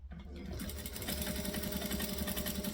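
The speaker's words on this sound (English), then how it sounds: "we're just going to stitch the edges because it looks pretty" A sewing machine runs at a steady, fast, even hum, stitching along the edges of a fabric bucket bag at stitch length 4, alone and close.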